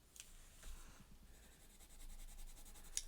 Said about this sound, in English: Next we have an oil charcoal pencil.